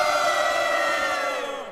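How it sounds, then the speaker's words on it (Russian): Huge crowd waiting on a beach in a Soviet children's audio drama, a dense, loud mass of many voices in sustained, siren-like cheering that holds steady for a couple of seconds before slowly fading and dropping in pitch. "Там нас, естественно, ожидала огромная толпа."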